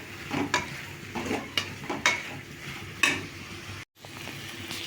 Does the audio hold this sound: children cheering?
no